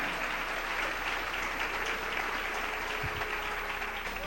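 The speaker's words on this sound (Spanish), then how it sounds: "Dele ese aplauso al Señor." Steady, dense applause from a large church congregation, sustained evenly throughout without pauses or individual standouts.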